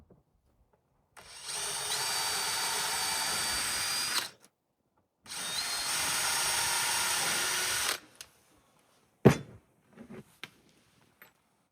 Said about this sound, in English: We're going to drill some pilot holes, making sure it goes into the secondary timber first.